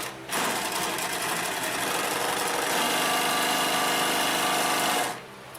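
A Consew 227R-2 cylinder-arm walking-foot sewing machine runs a seam in one steady, continuous mechanical whir for about five seconds. It starts abruptly, stops abruptly, and plays alone and close.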